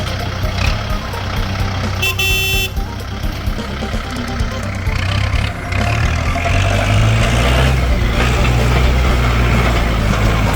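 A Kubota MU4902 49-horsepower tractor, registered in 2020 and used for three years, runs with a loud, steady low engine rumble that grows fuller about midway, with a brief tonal beep early on.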